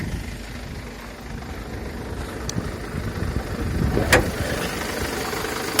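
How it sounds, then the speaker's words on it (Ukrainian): A Mercedes-Benz Sprinter van's diesel engine idles steadily at close range, a low, even rumble with a couple of faint clicks over it. "Мотор добре працює"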